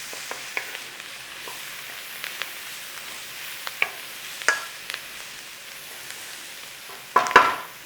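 Minced beef with dried thyme stirred in an oily frying pan for British-style pasties: a soft sizzle under scattered scrapes and taps of the spoon, with a louder clatter of stirring near the end.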